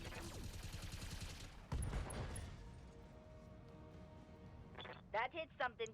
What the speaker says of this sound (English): We don't need to fire the flamers, fire everything else.